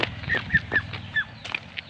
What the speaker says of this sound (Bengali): এতে তো এখানে হাঁস গোসল করতেছে